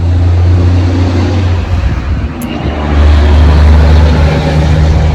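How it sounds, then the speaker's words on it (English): Heavy trucks roll past a home patio and deck. Loud, close, low-pitched engine and tire rumble swells and fades as vehicles go by, with no voices. "Trucks going by, it gets kind of noisy"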